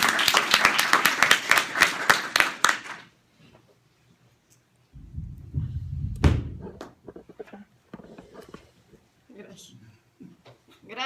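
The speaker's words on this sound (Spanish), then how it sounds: "Entonces, un aplauso caluroso a ella." An audience at a community event gives the consul a warm round of applause, a few seconds of dense rapid clapping that stops abruptly, followed by a door-like thud and then talking.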